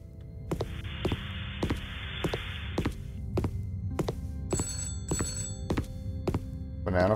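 A telephone rings repeatedly in a video game, a steady series of sharp, evenly spaced bell-like trills at moderate level, alone with no talking.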